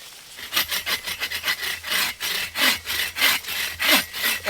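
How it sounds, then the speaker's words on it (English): Hand saw cutting wood at a woodland wild campsite, with about a dozen steady rasping back-and-forth strokes in a firm, even rhythm, close and alone. "Let's give it a few saws to see what we're cutting into."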